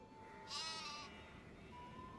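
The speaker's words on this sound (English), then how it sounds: "Sheep?" A single sheep bleats once at moderate distance in a Nancy Drew video game set at Castle Malloy, a short wavering cry over a quiet background hum with a faint steady tone.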